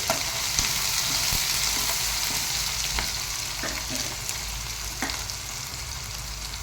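Chopped green chillies fry in hot oil for a plantain fry, giving a steady sizzle with a few light clicks of a spoon against the pan.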